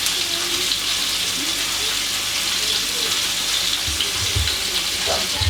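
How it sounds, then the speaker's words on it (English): Thick snapper fillets frying skin side down in a pan give a loud, steady hissing sizzle throughout, with a few low clunks near the end and no clear talking. "It's going to cook on 3 minutes on the skin side and 2 minutes on the other side."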